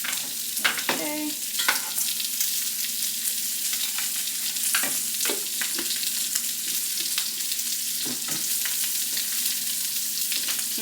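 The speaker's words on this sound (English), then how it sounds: "I'm just going to stir that paste up." Thick garlic paste with seasonings stirred in a hot pan, with a bright continuous sizzle broken by repeated spoon scrapes and clinks, close up.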